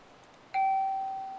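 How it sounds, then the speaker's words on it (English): A bell sound effect from PowerPoint strikes once, a clean ding that sustains and slowly decays, alone over faint background hiss. "So you can hear the bell"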